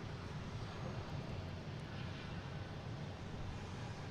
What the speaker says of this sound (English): We have American Airlines right here, coming in from Philly, a Philly special. Flight 3116, 737-800.